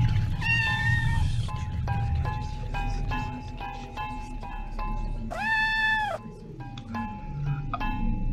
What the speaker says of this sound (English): We'll check out that meowing later